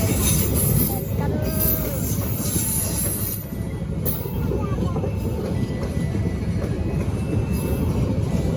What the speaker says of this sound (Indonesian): Ini adalah kereta Kalibung sampai Brebes.